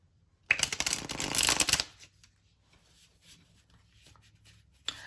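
A Destiny oracle card deck is riffled in one quick burst of crisp flapping lasting just over a second, followed by quiet with light card handling.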